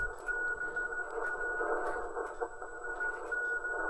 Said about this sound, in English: And my favorite mode of operation is Morse code